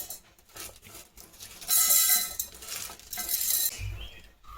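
Cooled roasted spices are scraped and tipped from a pan into a mixer jar, making a few clinks and a bright metallic rattle, faint and close, with a soft thud at the end.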